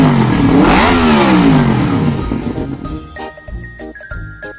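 A voice imitates a motorbike engine with a loud, drawn-out vroom that rises and then falls in pitch. Light, tinkling music follows as the voice fades.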